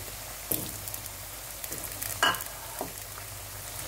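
Potatoes shallow-frying in oil for a wedding-style mixed vegetable dish, a soft, constant sizzle with a few light clicks of a stirring utensil, fairly faint and close, with no talking.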